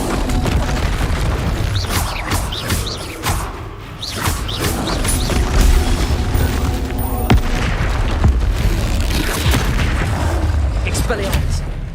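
In Hogwarts Legacy an Expelliarmus spell is cast amid combat, with heavy booming impacts and thuds repeating throughout a loud, busy fight while a voice talks over it.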